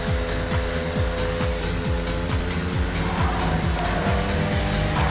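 Scooter engine accelerating in the racing game Zipp Racing, a loud continuous buzzing motor with rhythmic pulsing repeated sweeps, close and alone without talk.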